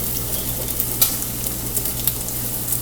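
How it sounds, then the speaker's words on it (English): Bacon and eggs sizzle steadily in a hot pan, with a constant frying hiss broken by a few sharp pops and crackles, heard close up with no talking. "Oh my gosh, this bacon is popping me."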